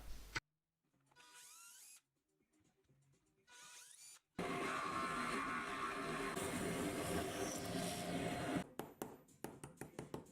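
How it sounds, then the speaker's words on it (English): Power drill pre-drilling holes for nuts on a motorbike swing arm and frame build: short whirring bursts with pauses, then a long loud grinding drill run, ending in rapid clicks, close and without talk. "Pre-drilling the holes to fit the nuts in more easily."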